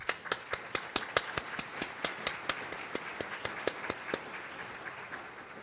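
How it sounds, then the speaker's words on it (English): Sparse, crisp hand claps from an audience at a military family forum on spouse employment, roughly twenty distinct claps in an uneven rhythm that thins out and stops near the end, fairly quiet in a large room. "Could we do a round of applause?"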